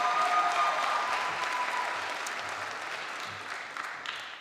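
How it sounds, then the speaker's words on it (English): Applause from the audience at a December SUNY ESF commencement for graduating Environmental Biology seniors, a soft, even wash of many hands heard at some distance, slowly fading. "Let us applaud the accomplishments of these graduating seniors in the Environmental Biology program."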